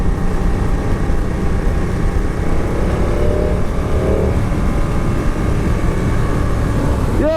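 Steady, loud engine drone from a BMW RS 1200 motorcycle on the road, a continuous even rumble with road and wind noise and no clear rise or fall.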